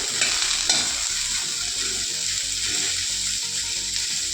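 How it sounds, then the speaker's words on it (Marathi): Okra sautéing in oil in a kadhai gives a steady bright sizzle with repeated soft scraping strokes as it is stirred, close and continuous. "अशी भेंडी थोडी तेलात परतून घेऊया. आपण तिला मिक्स करूया."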